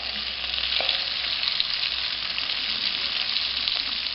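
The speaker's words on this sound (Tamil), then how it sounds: "இதில் வெட்டி வச்சுருக்கிற குடமிளகாய், வெங்காயம் சேர்த்து போட்டு வதக்கிடுவேன்." Capsicum and onion sautéing in a kadai for kadai paneer, a steady, close sizzle with faint stirring scrapes and no voices.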